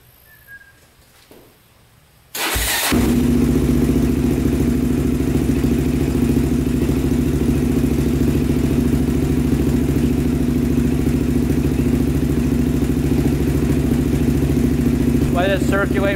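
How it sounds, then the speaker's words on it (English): A Honda 400EX ATV engine fires up after an oil change and idles steadily, a loud, close, continuous single-cylinder rumble with a faint click near the end. "We're gonna quick run it."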